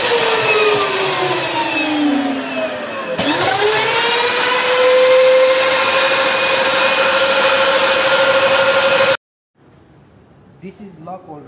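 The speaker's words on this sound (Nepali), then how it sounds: "दिस इज लक और राउटिङ मेसिन" A lock routing machine cuts UPVC window profiles in a Kathmandu workshop, a loud high motor whine that dips and climbs back to a steady pitch, then stops abruptly, followed by faint speech.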